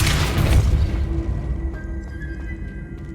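In the Hogwarts Legacy video game, a booming Depulso spell blast hits with a loud, rumbling impact. It tapers off over a few seconds beneath a faint, steady game ambience.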